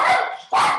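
A dog barks twice in quick succession, loud and close, sharp yaps with a brief gap between them, heard alone in an indoor room during a yoga session.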